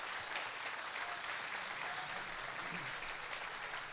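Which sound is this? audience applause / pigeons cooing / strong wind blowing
audience applause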